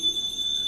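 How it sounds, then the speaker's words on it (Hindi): A small puja bell rings inside a house during worship, a single sustained metallic tone holding steady and fairly clear over faint room hum. "और पूरे घर में आवाज आ रही है घंटी की।"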